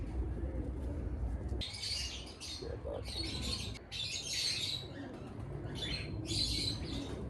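Game pigeons at a breeder's loft give soft coos and rustling wing flaps against a constant low background hum, with faint chirps from other birds and no speech.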